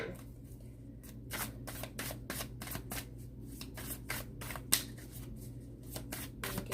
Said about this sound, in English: Just going to get these cards shuffled.